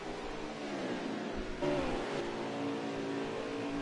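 Race cars in a sim racing game at Watkins Glen run side by side into the bus stop chicane, a dense, loud engine roar with revving and shifting pitch, continuous throughout with a surge midway.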